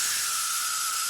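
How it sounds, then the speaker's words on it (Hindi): Steady, loud hiss of steam escaping from a pressure cooker after its whistle weight has been lifted off and the vent propped open with tongs, a continuous unbroken rush with no voices. "इसलिए सेफ्टी के लिए मैंने इसके दूसरे चिमटे की मदद से ऊपर कर दिया है ताकि अच्छे तरीके से भाप जल्दी निकल जाए"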